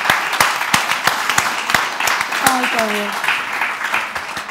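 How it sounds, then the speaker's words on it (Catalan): An audience applauds at a Catalan family-themed talk event, with scattered, distinct claps in an uneven rhythm. A voice speaks briefly over the clapping. "ara jo us he d'aplaudir"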